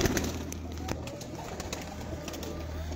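A Kasuri pigeon coos softly among birds at a pigeon keepers' market, low repeated throaty calls over faint background chatter and occasional clicks.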